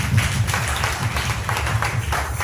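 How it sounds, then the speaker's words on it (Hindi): A church congregation claps loudly and steadily during a Hindi Christian sermon, dense overlapping hand claps forming a continuous wash with a faint low hum beneath. "जोर से ताली बजाएंगे, जोर से"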